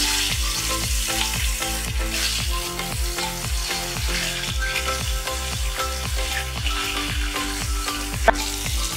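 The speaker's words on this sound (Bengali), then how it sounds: "এবার মিডিয়াম ফ্লেমে মাছগুলো হালকা করে ভেজে নেব, খুব বেশি কিন্তু ভাজার দরকার নেই।" Climbing perch fish sizzle steadily in mustard oil over a medium flame, a continuous loud crackling fry with rhythmic stirring scrapes and no talking.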